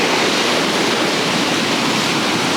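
Sea waves wash over the sand at Ayrmer Cove in Devon, a loud, continuous broadband rush of surf with no pause, close by and alone.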